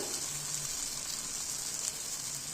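Semolina uttapam batter sizzles steadily in a hot pan, a faint, even hiss of frying with no voices.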